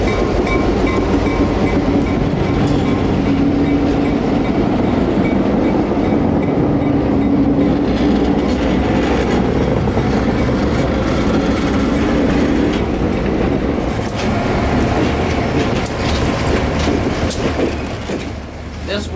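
An Orlando Northwestern Railroad train rolls outbound toward Mount Dora near Tavares, a loud continuous rumble of wheels and cars passing close, with a voice heard faintly at times.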